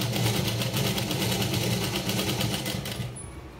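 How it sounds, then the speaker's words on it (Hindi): A sewing machine stitches fabric in a continuous, even mechanical hum with a rapid needle rhythm, close and steady throughout before easing slightly at the end, with no talking. "इसको इस तरह से सिलना है।"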